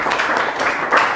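Brief burst of audience applause after a group presentation, a dense patter of clapping that lasts about a second.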